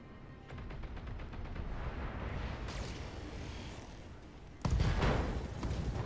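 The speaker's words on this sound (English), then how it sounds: "LRM ammo explosion." An LRM ammunition store cooks off inside a BattleTech mech in the Friesland battle, a burst of crackling, rapid detonations over steady rumbling combat noise, with one sudden heavy blast near the end.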